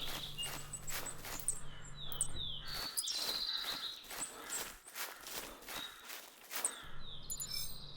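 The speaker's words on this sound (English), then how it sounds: "I can hear the crows up on the hill." Crows calling from a hill in theHunter, a Rocky Mountain elk hunting game, as short scattered caws at a moderate distance, mixed with footsteps and rustling from the player moving through the terrain.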